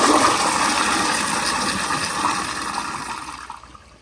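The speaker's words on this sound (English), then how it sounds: "let me give you all another flush at this angle," A 2000 Crane Plumbing Placidus siphon jet toilet flushes loudly and close by. A continuous rushing of water holds steady and then tapers off toward the end, with no talking.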